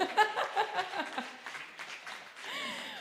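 A small group applauds a prize winner at a family celebration, scattered clapping rising and fading under chatter and light laughter.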